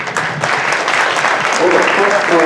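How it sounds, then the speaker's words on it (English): An audience at a staff meeting claps in a close, steady round of applause that builds slightly toward the end, with a voice briefly audible underneath. "Applause for you."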